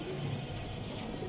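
A foreign racer pigeon coos softly in a loft, a faint, brief low murmur against quiet background noise.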